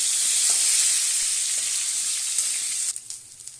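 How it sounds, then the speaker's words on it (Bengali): Whole potatoes frying in hot oil for a Bengali prawn and potato curry, a loud, steady sizzle with occasional stirring clicks that drops to a quieter crackle near the end. "ভেজে নিচ্ছি। বেশ লাল করে আলুগুলো"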